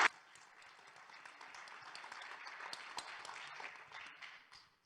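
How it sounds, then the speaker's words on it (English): Audience applause for panelists at a conference, a dense, fairly faint patter of many hands clapping that holds steady for several seconds and then tapers off. "Big round of applause for our panelists."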